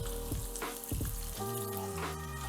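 Sliced onion and chopped garlic fry in a pan with a soft, steady sizzle, overlaid by a sustained tonal hum and a few brief clatters.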